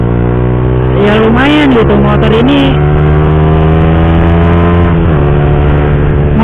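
A Suzuki GSX-R150 sport motorcycle engine drones loud and close at steady high revs, its pitch briefly rising and dipping, while the rider talks over the engine noise.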